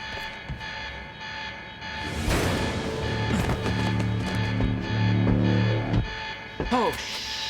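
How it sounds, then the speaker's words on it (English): A wailing alarm sounds throughout a tense facility scene in the video game Quantum Break, with a steady tonal siren layered over rumbling mechanical noise, rattling and hits, loud and close, with a short pause near the end. "The alarm's not gonna make my life any easier."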